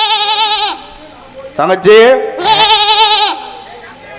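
Goats and lambs bleat loudly and up close in several wavering calls, one long cry at the start, a quick burst in the middle and another sustained bleat after, with a voice speaking briefly among them.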